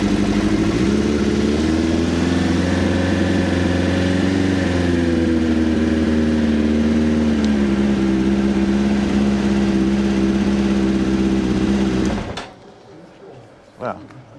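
A hot 1996 Suzuki GSX-R 750 SRAD engine, started without choke after sitting about five minutes, idles loud and steady with a wavering tone for twelve seconds before cutting out abruptly, leaving near silence.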